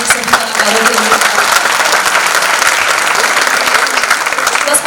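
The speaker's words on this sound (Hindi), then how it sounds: "जोरदार तालियां हो जाए हमारे सभी कलाकारों के लिए।" A theatre audience gives loud, dense applause for the cast of a stage play, a sustained wall of clapping at close range with faint crowd murmur mixed in.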